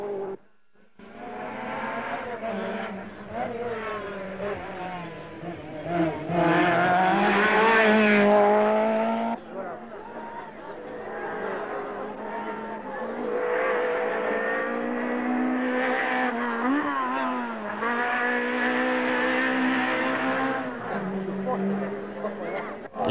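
Rally cars, a Peugeot 205 Turbo 16 and an Audi Quattro Sport, racing on a snowy stage, their engines droning and revving up and down through gear changes, under continuous narration by a commentator.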